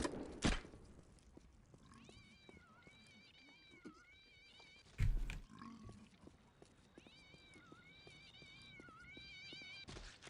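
Cats meow and caterwaul repeatedly as they fall from the sky in the game Postal 2, with sudden heavy thuds as they land, and the cries come in overlapping clusters at moderate volume.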